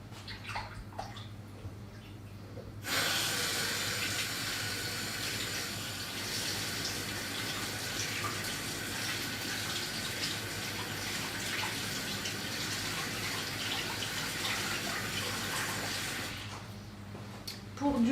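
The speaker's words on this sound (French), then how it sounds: "Là, je vais rincer ça." Tap water runs steadily over a utensil while it is rinsed in a kitchen, a continuous close hiss and splash lasting about thirteen seconds before the flow cuts off abruptly.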